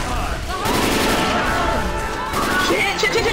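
Rapid bursts of automatic gunfire crackle in Left 4 Dead 2, loud and close, as dense volleys run almost continuously with brief pauses.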